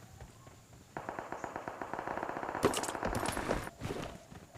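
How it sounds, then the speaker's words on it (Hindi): Rapid automatic gunfire from behind in the PUBG Mobile battle royale game, a dense burst of shots lasting several seconds with sharper, louder cracks mid-burst, fairly close and with no talk over it. "पीछे से थोड़ा गन साउंड की आवाज़ आया था"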